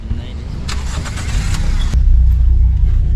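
A parked car's engine turning over and catching, a burst of cranking followed by a steady low idle rumble nearby, with people talking over it.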